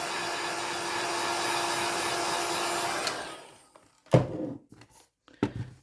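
A hair dryer blows over a paper drawing in a steady, loud whir for about three seconds, then switches off and winds down, followed by a few sharp knocks and clatters as it is set down.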